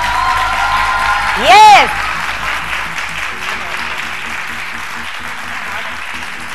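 Studio audience applauding and cheering, a sustained crowd clapping that carries through the whole stretch, with a brief loud electronic swoop near the start and a host speaking over it.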